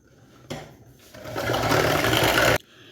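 Electric mixer beating eggs and sugar into fruit cake batter, a loud, continuous whirring burst lasting about two seconds that climbs in intensity before cutting off abruptly.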